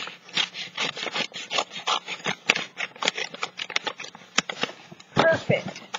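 Scissors snip and rustle through a thick paper bag, cutting a cover for a handmade journal: a quick irregular series of crisp cuts and paper crinkles, close and fairly loud, with a voice speaking at times.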